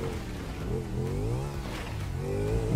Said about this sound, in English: Okay, let's go on motorbike.